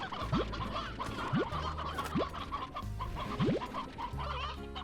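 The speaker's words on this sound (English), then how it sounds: "You escapee rooster. That's okay, it's a grown rooster anyway." Rooster in the Slime Rancher game clucking repeatedly, several sharp rising calls spaced about a second apart over a busy, layered game soundscape with no talk.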